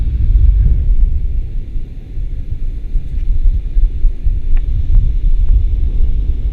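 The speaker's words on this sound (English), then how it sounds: "There's plenty of wind." Strong wind blows on a hill slope during powered paragliding, heard as a constant low rumble and buffeting against the microphone. It stays loud and steady throughout with no talking.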